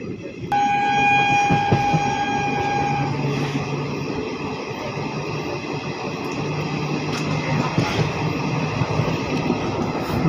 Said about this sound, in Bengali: আর এখন আমাদের ট্রেন পার করছে খড়গপুরের আগের স্টেশন